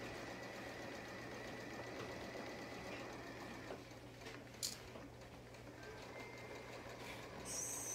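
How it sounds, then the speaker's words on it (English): A sewing machine stitches a straight seam through three layers of pillowcase fabric with a steady, quiet mechanical whir running continuously, with a couple of small clicks and no talking. "you're just going to sew a straight seam on your machine all the way down"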